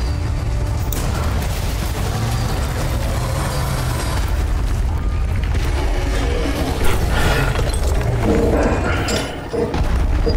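Cannon fire in the Resident Evil 4 Remake castle battlements, a loud booming blast buried in a dense, continuous wash of game noise and rumble, with a sharper burst standing out near the end.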